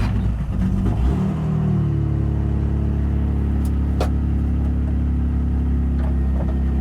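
BMW E46 pulls away, its engine droning and rising steadily in pitch as the car gets moving, heard close from inside the cabin with a couple of brief clicks and no talking.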